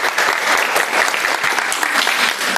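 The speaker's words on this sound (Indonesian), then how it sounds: "Tepuk tangan dulu kita untuk Amang ini ya." Audience applause at a church deacon training session, a short burst of dense, even clapping from a room full of people, loud and close throughout.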